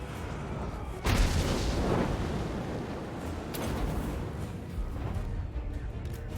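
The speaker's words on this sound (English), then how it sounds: "all those cannons just going right for these guys over here" Cannons fire in the Total War: Warhammer video game, a heavy booming volley crashing in at once and rolling into sustained thunderous rumble and impacts across the battlefield, loud with no talk over it.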